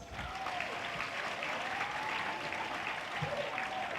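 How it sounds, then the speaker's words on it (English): Summit audience in a hall claps steadily throughout, a dense, even wash of applause heard from a distance, fairly quiet and continuous with no talk over it. "So clap for yourselves."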